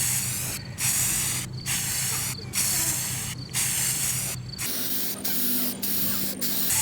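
Spray paint hisses from a can onto a DIY Halloween tombstone outdoors on a windy day, in a series of short, steady bursts with brief pauses between them, fairly close and clear.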